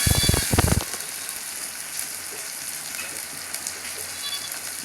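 Shallots and ten garlic cloves sizzle gently in a pan, a steady soft frying hiss after a brief louder burst at the start, with no talking.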